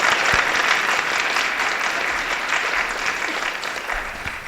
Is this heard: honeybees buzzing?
no